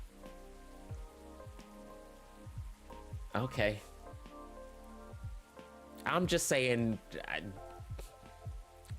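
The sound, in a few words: rain falling, video game Coffee Talk Episode 2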